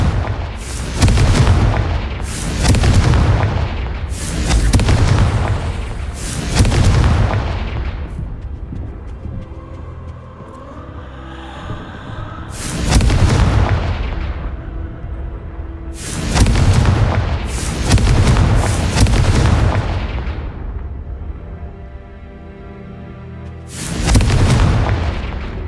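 Fire spell explosions from the Hogwarts Legacy video game: a series of loud, booming blasts in quick clusters, with rumbling decay between bursts and no talk.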